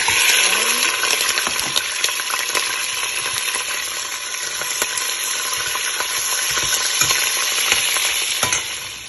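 About a kilo of mutton for aloo gosht hits the pot and fries, a strong, continuous sizzle with scattered pops and stirring clicks close by, with no talking.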